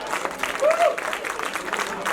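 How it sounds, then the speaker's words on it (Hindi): An audience at a birthday tribute music show applauds a singer, brief dense clapping under a voice that sings or calls out in the middle. "एक बार जोरदार तालियां।"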